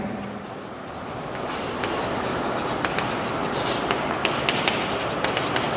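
Pen or pencil writing a line of maths on paper during a Class 10 lesson, close and continuous scratching with small taps and strokes, no talking over it.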